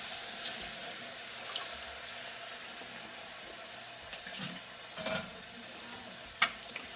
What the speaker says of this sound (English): And we'll mix that up and let it start simmering.